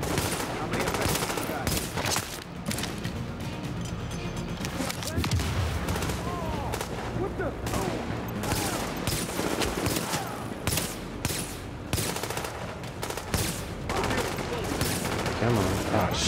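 Gunfire in Tom Clancy's The Division: dense bursts of automatic fire, single shots and booming impacts that crackle without pause, loud and layered, with voices talking over the shooting.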